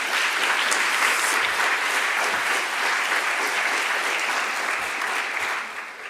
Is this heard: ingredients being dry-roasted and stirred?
no